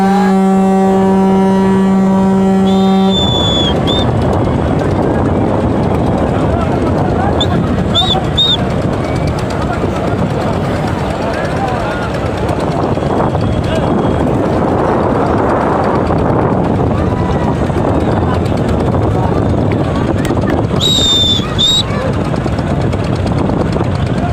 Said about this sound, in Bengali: রাত আটটা চুয়ান্ন মিনিটে এমখান ঢাকা সদরঘাট থেকে যাত্রা শুরু করলো আজকে